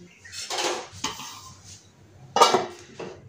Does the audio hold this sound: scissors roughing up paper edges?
no